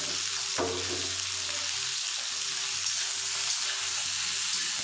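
Steady frying sizzle of okra with turmeric in oil, a continuous crackling hiss with a brief clatter near the start; no voices.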